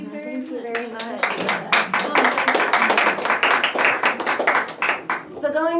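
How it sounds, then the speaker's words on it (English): A small audience breaks into close, distinct handclapping that builds into rapid overlapping claps for several seconds, with voices speaking at the start and end. "I'd like to applaud you for your little documentary."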